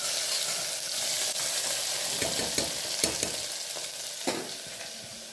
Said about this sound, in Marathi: छान परतून घ्यायचे हे. यात आपण आता टॅमॅटो टाकला, लसूण टाकलेला आहे